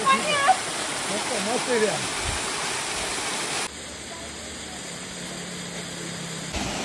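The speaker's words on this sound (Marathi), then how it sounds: "येता येता हायवे मध्ये आम्हाला छोटा वॉटरफॉल दिसला." A small waterfall beside a highway during rain gives a steady rushing hiss of falling water. A voice speaks briefly over it early on, and the level drops partway through.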